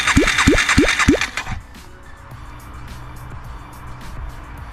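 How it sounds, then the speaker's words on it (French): A 125 motorcycle engine blips through four quick revs in a row, then drops to a low, steady idle rumble close by. "ce gros bruit de moteur là."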